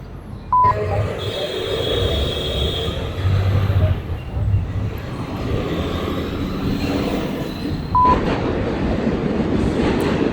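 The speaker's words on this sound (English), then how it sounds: "Forgot about the train that's here." A train rumbles past nearby with a steady low roar and rattling, a couple of short high tones ringing out over the noise.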